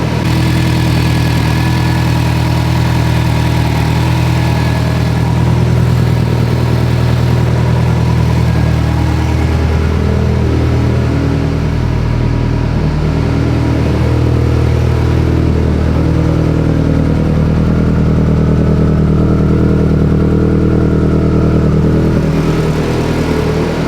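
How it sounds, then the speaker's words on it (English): A built Subaru STI engine runs steadily near at hand for the whole stretch, its loud, uneven low idle note wavering and stumbling as it misfires. "Car was running fine, then it randomly started misfiring"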